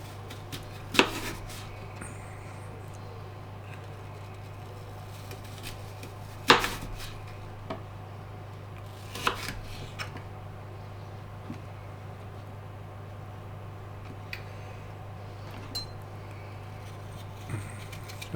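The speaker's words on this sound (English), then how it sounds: "use a knife to do this and a peeler to peel them. And then you want to sort of chop them up into" A knife chops peeled apples into small chunks, giving a few sparse, sharp knocks against a board, spaced irregularly over a quiet steady hum.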